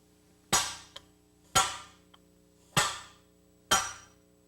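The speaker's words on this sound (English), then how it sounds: "drive the bushing into place with a hammer" Four sharp, ringing metal strikes, about a second apart, as a hammer drives a steel bushing and sleeve into a car's front control arm through a steel bridge tool. Small faint taps fall between the blows, close by in a quiet room.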